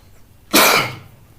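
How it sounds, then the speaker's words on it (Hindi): A single loud, harsh cough from someone with a cold, a brief burst standing alone in an otherwise quiet room. "ये खांसी बहुत आ रही है।"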